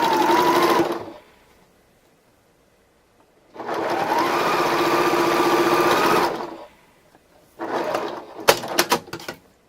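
A sewing machine stitching pieced quilt fabric, running in three bursts: a short run, a longer steady hum of several seconds after a pause, then a shorter run ending in a few clicks, close and alone.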